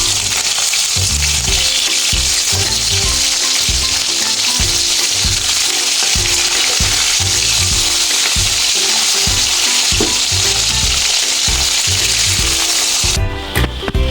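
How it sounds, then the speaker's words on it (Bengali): Tengra fish are turned over and keep frying in oil, producing a continuous, dense, close sizzle with faint scraping from the turning and no talk. "মাছগুলো এবার আমি পাল্টে নেব।"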